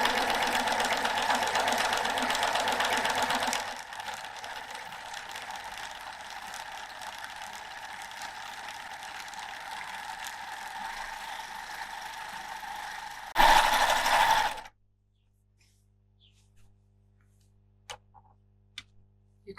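A Baby Lock Euphoria coverstitch machine sews straight lines with a stitch guide, giving a steady close mechanical whirr with a fast ticking rhythm that runs for about fourteen seconds, briefly louder near the end, then stops into near silence.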